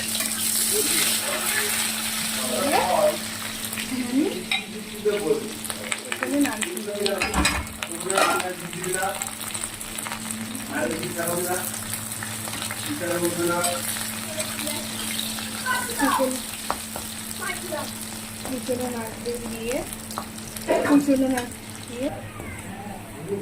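Onions fry in oil with dried red chillies and black cumin for kochu shak, a continuous sizzle with stirring clatter under a person talking throughout.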